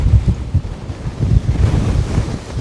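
Strong wind in the Scottish mountains near a summit, buffeting the microphone with loud, low, gusty rumbling that surges and dips throughout.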